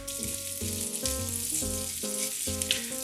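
Bacon slices fry in a pan for oven goulash, fat crackling and sizzling steadily throughout, with a few clinks and scrapes of stirring over the continuous hiss.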